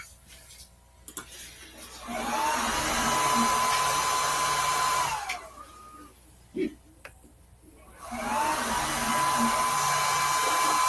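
A 3D printer running in a home garage, a continuous whirring motor with rising and falling stepper tones in long sweeps, punctuated by a few clicks and knocks, fairly close and steady.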